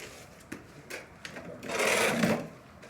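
A sewing machine stitches a big handmade broom in a short run of mechanical whirring near the end, after a few scattered knocks and clunks from handling.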